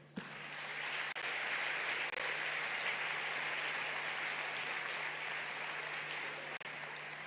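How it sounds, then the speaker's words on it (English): Sustained applause from an audience at an Africa climate summit, steady and fairly even for several seconds, with a faint constant hum underneath. "A bigger round of applause, please, as they take their seats."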